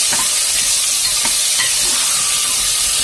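Ingredients for flattened rice khichdi fry in a pan before pressure cooking, giving a loud, continuous close-up sizzle and hiss with a few soft stirring knocks.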